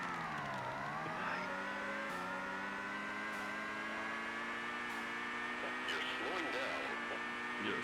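Simulated Formula 1 car engine in F1 Pole Position 64 on the Nintendo 64, a steady synthetic engine drone whose pitch dips and then climbs slowly as the car accelerates, with voices talking over it throughout.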